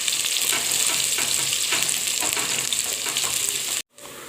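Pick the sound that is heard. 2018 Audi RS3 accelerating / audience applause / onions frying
onions frying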